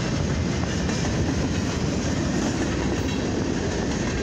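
Eastbound CFE mixed freight train led by units 7825 and 7826 rolls past on the main track between Fort Wayne and Lima, a steady close rumble of wheels and cars with no talking.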